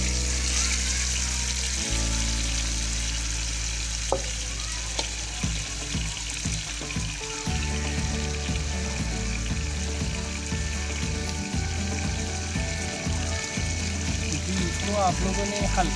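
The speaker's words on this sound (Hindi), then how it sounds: "फ्राई कर लेना है, साथ इसको हिलाते रहना है" Beef for karahi sizzles in a pan over low heat while being stirred, a continuous crackling hiss with occasional clinks of the spoon, close and steady, with a voice talking over it.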